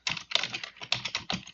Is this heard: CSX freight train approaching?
no